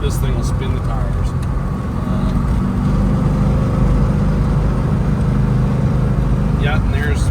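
A 1972 Plymouth Roadrunner engine drones steadily at low revs while cruising at highway speed, a deep continuous rumble with road noise, and a voice speaks briefly.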